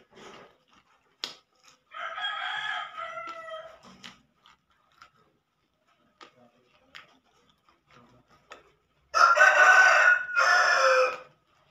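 A rooster crows twice in the background at a home kitchen, a first moderate call and a later louder, longer one, with sparse clicks and small sounds in between.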